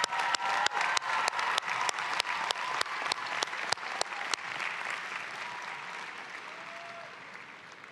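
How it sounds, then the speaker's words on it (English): An audience at a university spring commencement ceremony applauds the student speaker, opening with sharp, strongly accented rhythmic claps that give way to a softer sustained patter fading gradually. "let's give Tonya Henderson Gatling, our student speaker, another round of applause."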